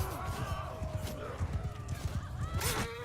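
A horse in the video game Mount & Blade II: Bannerlord, with rapid clip-clopping hoofbeats running under voices and other game sounds.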